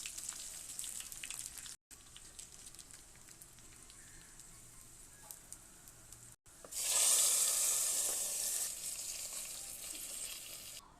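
Tempering crackles and sizzles in hot oil in a pan while greens are prepared, with a low background hiss that bursts into a loud, bright sizzle partway through and then settles into a steady fry.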